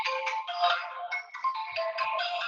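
A phone ringtone plays a bright, looping electronic melody of quick chiming notes, fairly close and steady, with no talking.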